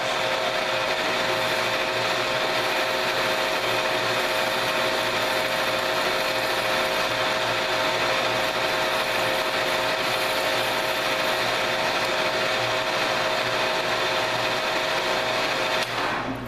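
A lathe machines an outside chamfer on a metal screw jack base, giving a constant loud whirring drone with a steady hum and a faint rasp of cutting, ending abruptly.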